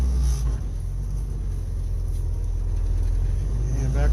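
An old Jeep idles and rolls in reverse while turning around, a low steady engine rumble close by with a faint rattle, running evenly throughout with no speech.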